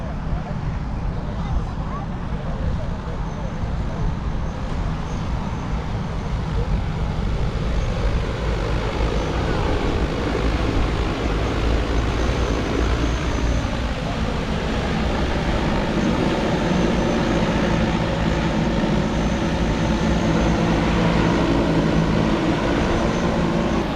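An agricultural spray drone flies in at low altitude, spraying water at a 2-gallon rate over an outdoor farm show field, producing a steady, loud whirring roar that holds for the whole stretch with wind noise underneath.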